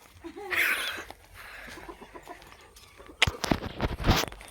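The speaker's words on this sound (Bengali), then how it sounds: "ওই দেখো দুটো মুরগি" Village hens in the Sundarbans cluck in short, close bursts outdoors, the calls growing busier toward the end over soft rural background noise.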